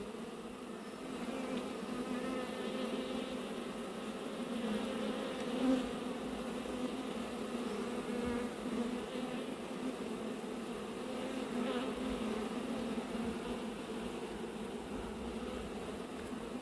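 Dense, continuous droning buzz of many honey bees swarming close by, steady throughout with slight swells in loudness.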